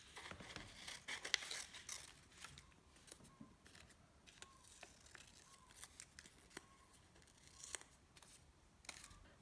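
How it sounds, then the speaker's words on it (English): Scissors snip through paper while leaf shapes are cut out, a series of quiet, irregular crisp cuts with soft paper rustles and crinkles between them, close by and with no speech. "Once your whole page is full, we're going to start cutting."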